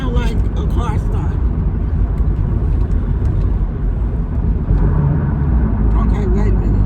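A voice imitates a car engine starting, a rough continuous rumble held for several seconds, heard over the steady noise of a moving car's interior.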